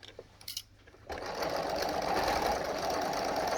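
A sewing machine runs in a steady, loud whir as it stitches along the edge of an apron, starting up after about a second of quieter handling noise and continuing without a break.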